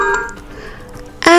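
On an OPPO Reno phone, a short melodic electronic alarm tone plays at a low level, then a louder, brighter ringtone bursts in near the end.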